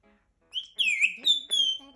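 A grey parrot whistles a short series of clear, bright notes, rising and falling in quick phrases after a brief silence, close and alone.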